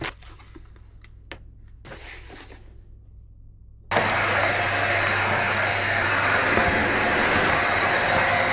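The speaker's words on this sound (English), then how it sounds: "like vacuum because it's been a while since I vacuumed the room" After a few seconds of near quiet, a vacuum cleaner switches on abruptly in a room and keeps up a loud, steady roaring whine to the end.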